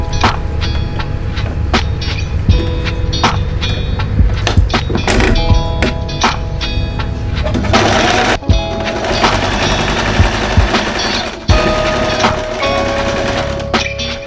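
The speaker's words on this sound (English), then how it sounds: "I'm going to use a zigzag stitch again to sew right next to the straight stitch." A sewing machine runs a zigzag stitch through a thrifted garment being refashioned into a tank top, a steady close mechanical whir with dense rapid needle ticks and a couple of brief pauses, with no talking.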